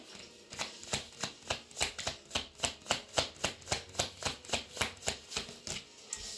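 A deck of tarot cards is riffled in a quick regular rhythm, about two dozen crisp, close flutters with no talking.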